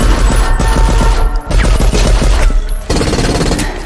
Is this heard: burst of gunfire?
yes